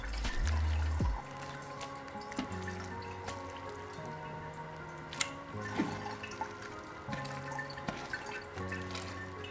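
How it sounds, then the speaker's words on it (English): Wine-making juice dripping and trickling from a filter bag of squeezed fruit mash, with irregular wet drips and splats close by over a faint watery trickle. "Squeeze out all the extra juice."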